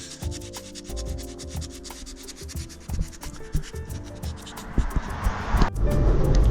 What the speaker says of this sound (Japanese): 頑張ってやすりがけしていきたいと思います